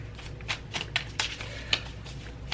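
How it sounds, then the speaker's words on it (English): Tarot cards being shuffled by hand during a reading, a run of soft riffling and flicking bursts at close range over a low steady hum. "Let me shuffle a little more."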